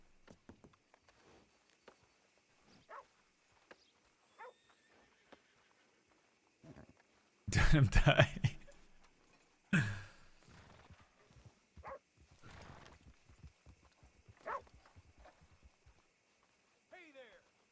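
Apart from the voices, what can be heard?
horse in a video game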